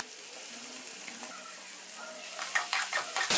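Shredded chicken frying in oil in a pan over medium heat, a steady sizzle that turns to louder, rhythmic stirring scrapes toward the end.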